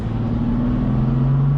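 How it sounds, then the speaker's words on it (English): A BMW F82 M4 running in M1 mode with its exhaust valves open, giving a steady, close low drone heard from inside the cabin, with no talking. "You do get a little bit more sound coming into the cabin because those exhaust valves are open"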